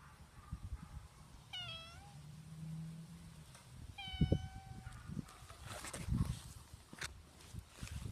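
A cat meows twice, each a clear rising-falling cry about two seconds apart, close to the microphone outdoors near a carport, with light rustling and thumps between the calls.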